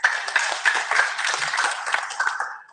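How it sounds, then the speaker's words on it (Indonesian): A church congregation claps together in sustained, dense applause that starts at once and holds steady for a few seconds before fading. No one speaks over it. "Berikan tepuk tangan untuk Tuhan"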